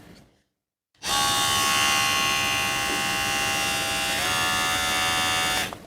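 A Kemei KM-2357 electric hair clipper switching on after a short silence and running at low speed with a steady, high, slightly slow buzz that shifts pitch once before cutting off.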